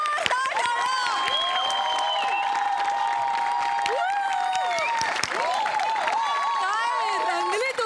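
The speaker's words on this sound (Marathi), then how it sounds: "जोरदार टाळ्या." A studio audience at a Marathi comedy show claps loudly and continuously, with scattered cheers rising through the steady applause.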